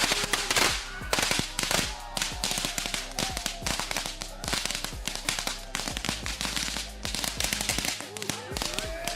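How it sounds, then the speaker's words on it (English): Firecrackers strapped to a vest going off at a backyard wrestling match, a rapid irregular string of sharp close cracks and pops lasting several seconds, loud against a quieter background. "lights up the firecrackers before her"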